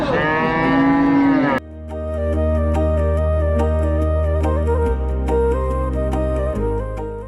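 A cow at a rural cattle market near Dhamrai, Dhaka, lets out a long, loud moo, followed by deep, sustained lowing calls close by, with no talk over them.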